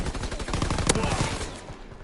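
Rapid gunfire from a weapon in Call of Duty WWII, a dense run of close, loud shots with one sharper crack midway, steady for about two seconds.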